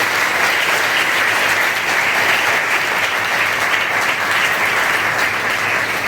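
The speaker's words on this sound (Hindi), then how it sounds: "जिन्नियां तालियां बज रही ने" Sustained, dense applause from a large audience fills a charity trust ceremony honouring meritorious students, loud and steady throughout with no break.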